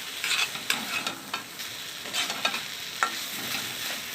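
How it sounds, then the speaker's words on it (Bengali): Grated carrots frying in ghee for gajar ka halwa and being stirred with a spatula: a steady close sizzle with repeated scraping strokes and a few sharp clicks against the pan, no talking. "যে ঘিটা দিয়েছি সেই ঘিটা এখন এই গাজর দিয়ে বেরিয়ে আসছে। এখন এটা পুরো বোঝা যাবে যে এটা ভাজা হয়ে গেছে।"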